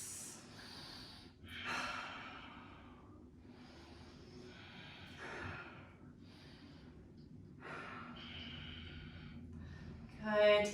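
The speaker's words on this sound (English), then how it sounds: "Here for just 4 more rounds of breath" Deep yoga breathing during a twisting flow, slow audible inhales and exhales through the nose in a calm repeating rhythm, close and fairly quiet, with a stronger breath near the end.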